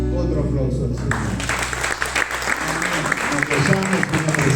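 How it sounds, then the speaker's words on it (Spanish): A church congregation at a Sunday service breaks into applause that builds to a dense, loud clatter after the first second, following voices and lingering sound at the start. "Otro aplauso al Señor."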